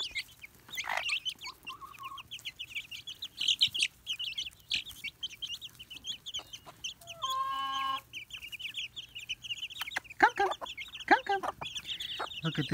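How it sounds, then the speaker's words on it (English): Chickens cluck and chirp near at hand while running toward a caller, giving a busy patter of short calls with louder squawks in between and a brief harmonic whistle-like call midway. "Good little chickies."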